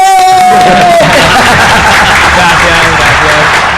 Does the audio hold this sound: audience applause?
yes